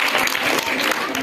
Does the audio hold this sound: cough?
no